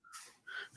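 A single short sneeze, close and fairly quiet, with a quick sharp intake followed by a brief burst of breath.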